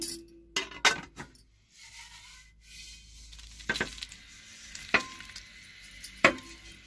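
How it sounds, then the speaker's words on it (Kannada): Hot tempering (oggarane) poured and sizzling over paper-thin flattened rice (poha) for avalakki upkari, with a burst of frying hiss and several sharp clinks of a spoon against the pan and bowl, close and without talk. "ಈಗ ನಾವು ಇದ್ರ ಮೇಲಕ್ಕೆ ಒಗ್ಗರಣೆ ಹಾಕಬೇಕು"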